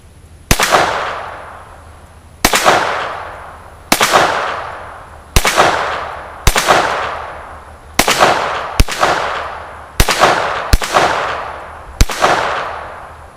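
A Ruger Mark III .22 LR pistol fires Remington rounds outdoors, about ten sharp, close shots spaced one to two seconds apart with short ringing decay, no talking.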